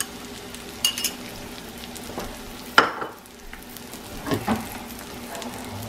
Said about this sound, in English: We're going to go ahead and add our eggs in here.